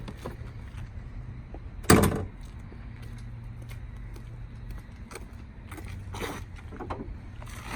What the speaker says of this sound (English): I'm going to pop the hood so you can see this beautiful beast.